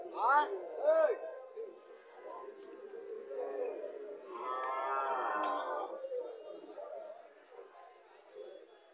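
At a busy village cattle market in Cumilla, a local cow gives drawn lowing calls, with a stronger moo near the middle, while people chatter and talk around it.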